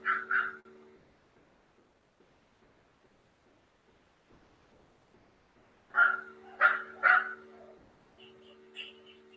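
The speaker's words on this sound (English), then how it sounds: "this dog is panting and pacing and racing about" An anxious, pacing dog barks in short bursts near the start, then again in a cluster of sharp barks, with quiet stretches of soft movement and panting between.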